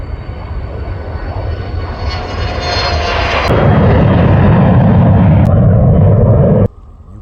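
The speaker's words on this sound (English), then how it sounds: "There's a Learjet 60 taking off." A Learjet 60 takes off at Bangor airport, its loud jet roar swelling steadily and staying close and sustained for several seconds before cutting off abruptly, with no talking.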